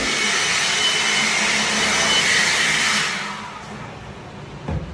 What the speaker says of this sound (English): I needed to blow the dust off my pieces. I like to call this tool my Bluetooth broom